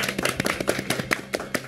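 Brief scattered clapping from a small group celebrating a prize announcement on a Japanese card-game broadcast, irregular hand claps close by with no talk over them.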